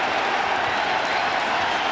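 Arena crowd at a 2008 NBA playoff game between the Philadelphia 76ers and Detroit Pistons cheering and applauding for the Sixers, a steady dense roar filling the whole stretch with no voices standing out.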